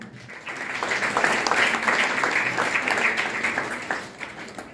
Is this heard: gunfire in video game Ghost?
no